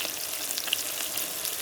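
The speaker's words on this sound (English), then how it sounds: "Sizzle, sizzle." Salisbury steak sizzles in a pan, a steady close crackle and hiss with small pops, no voices.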